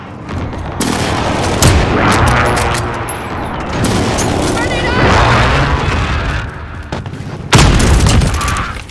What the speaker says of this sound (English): Be advised, friendly precision airstrike inbound